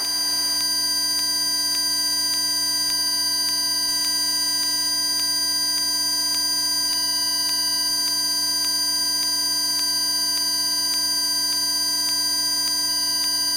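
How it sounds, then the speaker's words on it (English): An aircraft cockpit altitude alert sounds as a steady electronic tone held for the whole stretch, loud and constant with no breaks and no talk. "That beep's just telling us that we're almost at our altitude."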